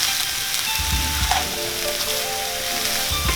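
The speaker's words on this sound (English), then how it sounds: "I'll also add in my fried potatoes now. Give it a good mix." Fried potatoes being mixed into sizzling kanda poha in a pan, a loud continuous frying hiss broken by scraping stirs and clinks of the spoon against the pan.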